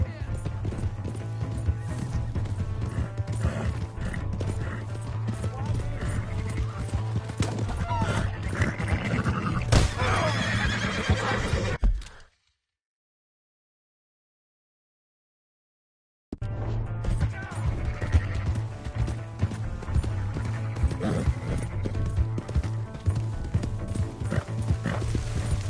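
Horse sounds from Red Dead Redemption 2, with steady clip-clop hooves and an occasional whinny under a low game score. The sound drops out to silence partway through, then resumes. Speech is present.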